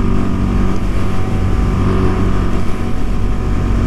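Husqvarna Vitpilen 401 motorcycle engine pulling under partial throttle, a loud continuous droning roar held throughout.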